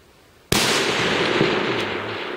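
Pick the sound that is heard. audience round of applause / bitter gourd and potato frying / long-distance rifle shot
long-distance rifle shot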